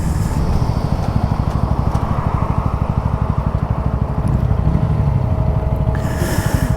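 A Bajaj Pulsar N160 and a TVS Apache 160 2V race side by side in a drag race, producing a loud, steady engine drone with a rapid pulsing throb throughout and no talking.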